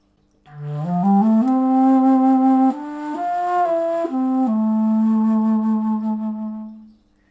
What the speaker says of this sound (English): It sounds 1 octave lower than the normal flute